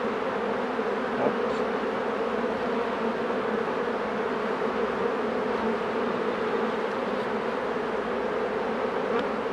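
A dense, continuous drone of many honeybees buzzing around a hive that has just been shaken, steady and close throughout with no pauses.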